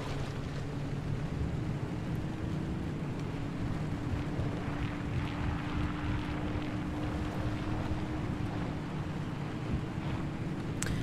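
Steady low car engine drone from a vehicle in the survival driving game Pacific Drive, a constant hum with a faint rising tone, running alone and unbroken under broad rushing noise throughout.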